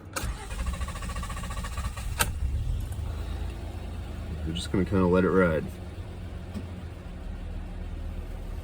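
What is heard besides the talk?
2010 Honda Accord engine starting and idling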